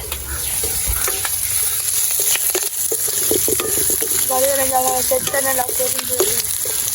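Food fries noisily in a pan for sambal with eggs, giving a constant close sizzle with stirring clatters and scrapes. Faint voices and household sounds come in briefly partway through.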